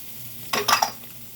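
A utensil scrapes and clinks a few times against a frying pan where minced garlic browns, brief close stirring strokes over a faint background sizzle.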